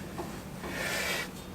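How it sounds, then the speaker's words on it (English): Aluminum polish being rubbed off a split wheel with a cloth, a soft close scrubbing rasp that swells for a few strokes and then fades. "removing the polish"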